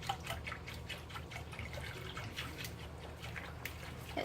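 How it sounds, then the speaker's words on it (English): Liquid slowly poured into a bowl while being whisked, a steady soft trickle with faint drips and light clinks throughout, close and low in level with no talking. "I'm just going to take this and slowly pour it in and whisk it at the same time."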